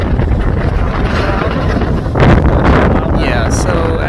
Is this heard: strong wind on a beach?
yes